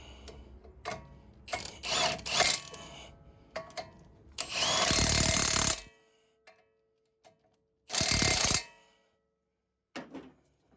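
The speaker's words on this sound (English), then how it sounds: "I'm going to tighten them 2 bolts back up." A power tool runs in short bursts, tightening two brake caliper bolts on a 2016 Jeep Wrangler, with loud buzzing runs separated by quiet pauses and clicks nearby.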